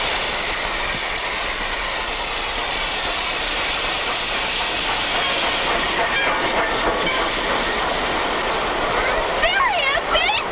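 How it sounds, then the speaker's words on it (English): A train pulls into a station in 1950, a steady loud hiss and rumble of the rolling train with squealing brake tones rising near the end and voices calling over it. "Hey, come on, here's the train!"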